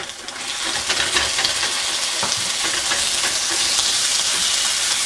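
A kilogram of beef sizzles loudly in a pan with fried onions, a steady close crackling hiss with stirring scrapes throughout.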